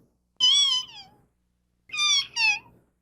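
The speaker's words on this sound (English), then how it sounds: "They just make that little tiny squeaking sound." A kitten gives tiny, high squeaking meows, one thin cry and then a quick pair, close and fairly soft with quiet between them.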